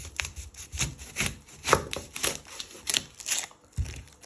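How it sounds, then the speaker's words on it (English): A kitchen knife cuts through an onion on a cutting board, a series of irregular close chopping knocks with quiet scraping in between. "You first want to chop your end off."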